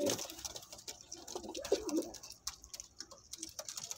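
Golden pigeons with red eyes and white beaks cooing softly in a bird seller's loft, several low throaty coos repeating at an uneven pace, fairly faint, with ticking and shuffling noises around them.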